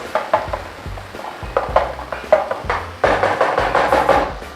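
A spoon stirs curried liver with tomato paste in a pot, making a run of close, wet scraping knocks and squelches over a light sizzle, with the stirring getting busier toward the end.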